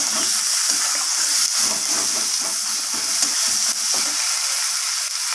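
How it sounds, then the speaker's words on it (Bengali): Garlic paste being sautéed with vegetables in a pan, a loud dense sizzle and bubbling hiss with rhythmic stirring scrapes, close and continuous without talk. "রসুনটাকে দেওয়ার পর আবারও সব কিছুর সাথে ভালোভাবে আমি কষিয়ে নেব"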